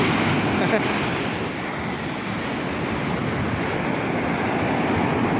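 Rough, murky sea surf breaking along the Mersin coast during a fishing dive, a steady close roar of waves with wind buffeting the microphone throughout.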